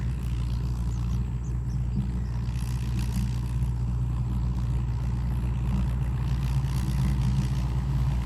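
A tractor engine runs steadily at a harvest field with a reaper, a continuous low rumble holding close and even throughout with no voices.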